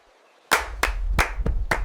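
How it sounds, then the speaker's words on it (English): Sharp hand claps at stone steps, struck one after another after a short quiet lead-in. There are five crisp, loud claps at roughly even intervals, and each one leaves a short ringing tail as it echoes off the stone. "Clap your hands once."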